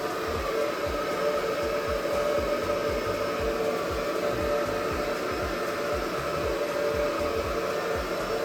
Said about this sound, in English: Use our blow dryer.